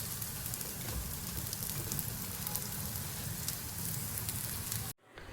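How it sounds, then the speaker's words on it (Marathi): Moong dal tikki fries in a hot pan, browning on both sides, giving a loud, steady close sizzle throughout that cuts off abruptly near the end. "आपल्याला दोन्ही साईडून खूप छान प्रकारे भाजून घ्यायचे"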